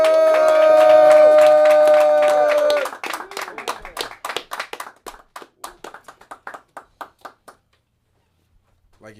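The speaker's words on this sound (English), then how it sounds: "Y'all clap it up for Xavier!" An open mic comedy audience claps for a comedian taking the stage. A tonal cheer and a whoop ring out at first. Crisp clapping then thins into scattered individual claps and fades to a last few taps.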